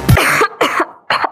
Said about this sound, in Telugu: దగ్గు వచ్చింది.